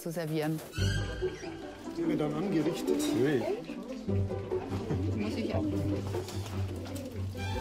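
Spotless and rosy starlings at feeding time give a busy, continuous chatter of chirps and coos, with a voice or other sound running underneath most of the time.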